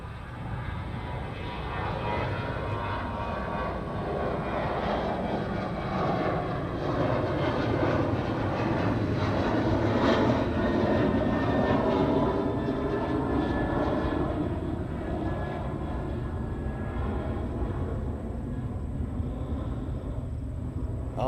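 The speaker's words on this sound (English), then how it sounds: "American TriStar or DC-10, one of the two" An American TriStar or DC-10 jet landing on runway 22 at Chicago O'Hare in wind shear, a steady loud engine roar that swells slightly mid-pass and holds, with no voices.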